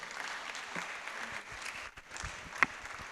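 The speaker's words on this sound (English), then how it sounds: "I thought that applause would be more than that." Applause from an audience at an event in Lagos, a steady, moderate patter of many hands clapping, fairly distant, with a couple of sharper claps near the end.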